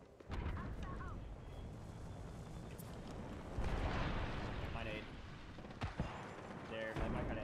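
A grenade detonates during an Apex Legends match as a sustained, rumbling game explosion with bursts of gunfire. It fills the clip with dense, loud noise, and a player's voice talks over it.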